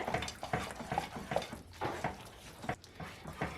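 Bombay halwa stirred in a pan after roasted cashews go in. A spoon scrapes and slaps against the pan in quick, uneven strokes, close up and moderately loud, with the thick mixture squishing.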